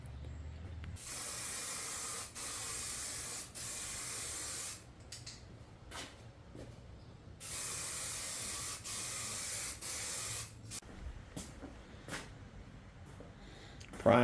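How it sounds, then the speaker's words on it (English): Primer sprayed from a rattle can onto a Storz front fender for a Harley-Davidson XR1200, in several long hissing bursts separated by short pauses, close and steady, with faint handling noises between passes. "Not going to break out the paint gun, just use rattle can on this."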